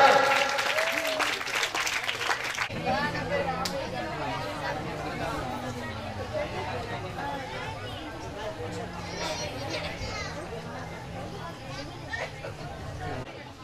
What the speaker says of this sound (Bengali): জোরে হাততালি ব্যাচটার জন্য আবারও।